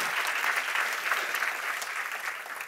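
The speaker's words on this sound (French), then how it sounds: "vous pouvez l'applaudir déjà, mais c'est pas fini" A lecture-hall audience applauds a doctoral candidate at a university thesis-presentation final, a steady, dense wash of many hands clapping at once that holds evenly for a few seconds without letting up.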